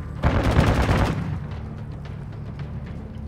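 A burst of rapid gunfire in Warzone 2 on PC, loud for about a second, then fading into a low rumbling echo, with no talking.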